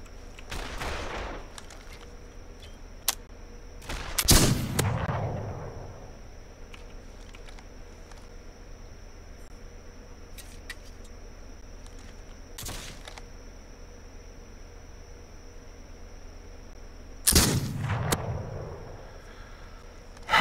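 Shotgun blasts from the video game This Land Is My Land: a few loud, booming shots spaced several seconds apart, each with a rolling tail, over a steady low ambient bed.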